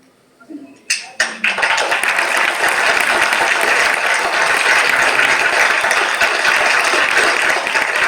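A few sharp, close claps build into loud, sustained applause from the crowd at a foundation stone laying ceremony for NCDC branches, a dense continuous roar of hands.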